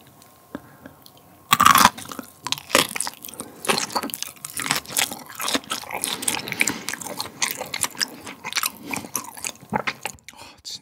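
Someone eats raw 1++ Korean Hanwoo beef flank (chimasal) right at the mic, with wet, squishy chewing and bites repeating steadily over several seconds. A sharp crunch comes near the start.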